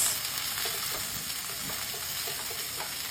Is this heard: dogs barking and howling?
no